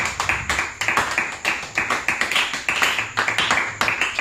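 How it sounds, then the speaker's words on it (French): A church congregation claps in a steady, rhythmic beat, sharp repeated claps at a brisk pace, close and continuous. "Donc on acclame le Seigneur Jésus-Christ."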